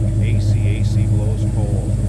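A 1970 Chevrolet C10 shortbox with a 5.3L LS V8 idling, a steady low rumble running under a voice speaking close by.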